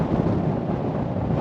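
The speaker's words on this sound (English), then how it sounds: "That wind is madness." Heavy wind on the world's largest salt flats in Bolivia blasts across the microphone in a loud, continuous rumbling roar with no voices.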